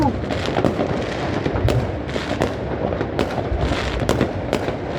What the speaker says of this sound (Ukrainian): Німці запускають всю новорічну піротехніку, феєрверки, салюти, хлопавки.